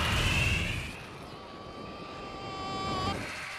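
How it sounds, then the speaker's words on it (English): A Harrier Jump Jet engine roars with a broad rushing noise and a high whining turbine tone that rises and falls, fairly faint and distant. "The Harrier Jump Jet,"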